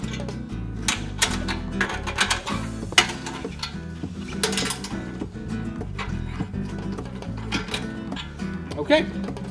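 A socket wrench ratchet tightens bolts while a portable chip warmer stand is assembled: rapid clicking bursts, close and fairly loud, alongside clinks of metal parts with a voice talking.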